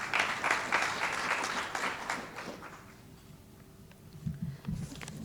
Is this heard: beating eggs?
no